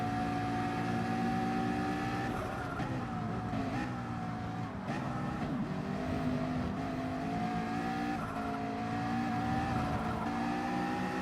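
GT3 race cars lapping Spa in a racing game, engines whining continuously with several overlapping tones shifting pitch through turns, loud and close, with occasional dips as cars brake and accelerate.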